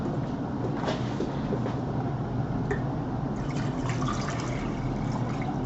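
Water splashes and gurgles steadily into a pot, a continuous pour with a few small drips, close by, while starting water for a beer-brewing kit.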